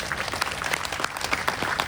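Audience at a kavi sammelan poetry gathering in Prayagraj clapping together, a dense, steady burst of many hands applauding close by with no voices over it.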